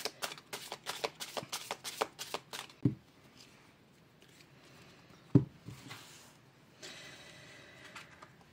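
Tarot cards are shuffled in a fast, close, papery riffle of rapid flicks, then drawn with a couple of soft taps and slides against a quiet background.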